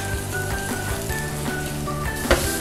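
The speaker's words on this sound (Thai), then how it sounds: "ต่อมาใส่หมูสับลงไปผัดเลยค่ะ" Minced pork stir-fries in a pan, a steady close sizzle with scattered clinks and scrapes of a utensil, with no talking.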